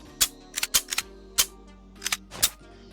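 Suppressed custom Glock 17 in the VR game Boneworks firing about ten sharp, snappy shots in uneven bursts, some doubled in quick succession, close and clear over a faint background hum.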